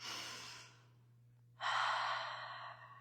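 Breathing exercise during a calming therapeutic talk: a soft, airy inhale, a brief pause, then a longer, louder exhale that gradually tapers off, heard alone with a low steady hum beneath.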